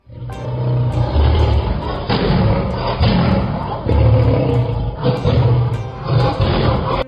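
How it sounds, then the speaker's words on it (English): A lion roars in long, deep, rumbling bursts that are loud and close, several powerful calls following each other with only brief breaks across the whole stretch. "Lion."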